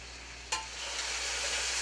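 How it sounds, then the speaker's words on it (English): Vegetables crackle and sizzle in hot oil in a pan, steady and close, with one sharp clack of a utensil against the pan early on. "So just stirring up the vegetables now."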